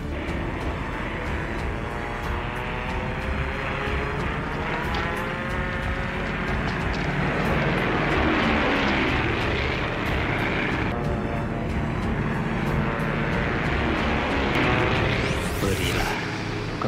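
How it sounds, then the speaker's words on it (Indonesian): A propeller aircraft drones overhead during the Dutch military aggression against Indonesia, a loud continuous engine roar rising and shifting as it passes, with no talk over it. "Tadi bukan pesawat kita, Jin."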